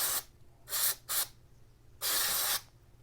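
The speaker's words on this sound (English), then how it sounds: "we're going to hose all this down with some carb cleaner" Carb cleaner sprayed from an aerosol can onto disassembled motorized bicycle carburetor parts: four loud, close hissing bursts, three short ones followed by a longer blast, with quiet pauses between and no talking.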